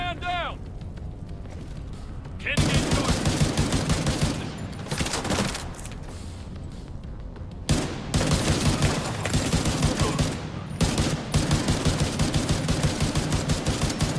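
Rapid bursts of gunfire in the video game The Division 2, loud overlapping volleys that stop and start in several clusters, with a player talking over the shooting.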